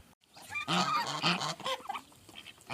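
Farmyard geese honking repeatedly in a noisy cluster, loud and close, several overlapping calls with brief pauses between bursts.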